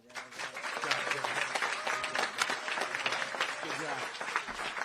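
Applause fills a ceremonial bill signing at Cheyney University for Chairman Harris, a dense, steady clatter of many hands. It runs the full length under a loud hall ambience, with voices mixed in beneath the clapping.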